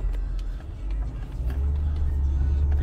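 A 2011 Mercedes SL550 AMG, recently serviced with suspension work and a replaced ABC pump, being driven: a steady deep engine rumble and road drone from inside the cabin, building slightly toward the end, with no clear talk.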